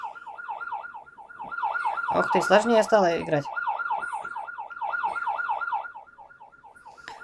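A wailing police siren from the video game Tasty Planet warbles steadily up and down throughout, while a person speaks briefly over it in the middle.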